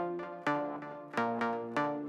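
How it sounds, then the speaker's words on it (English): An Eventide H90 effects pedal on the JK Cryverb preset, with shimmering crystal pitch effects feeding a ping-pong filter delay, turns a guitar into repeated bright, ringing notes that echo and fade in a steady pulsing pattern. "I've got some crystals on A going into a filter pong"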